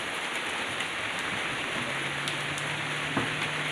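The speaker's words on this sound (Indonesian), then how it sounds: "Dan ini cuacanya lagi hujan." Steady rain falls and patters on surfaces outdoors, a soft, even hiss with a faint low hum underneath and a few louder drops, moderately quiet and continuous.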